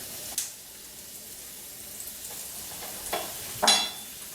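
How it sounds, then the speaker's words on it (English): Garlic goes into a hot pan with onion for beef taco filling, making a quiet, steady frying hiss broken by a few short scrapes and clinks of stirring. "Then we are going to add our garlic."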